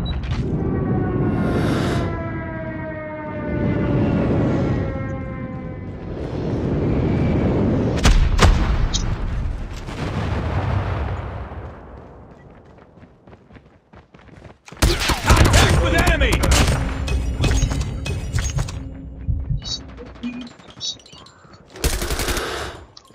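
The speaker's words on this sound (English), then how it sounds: "Enemy airstrike incoming." Gunfire and an incoming airstrike in the Call of Duty video game: bursts of automatic fire and heavy booms roll through the scene, loud and close, with in-game radio voices calling out over the battle.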